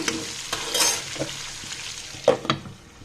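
Pointed gourd and potato pieces fry in a pan, a low steady sizzle broken by several scraping stirs of a spatula, with a couple of sharper knocks near the end.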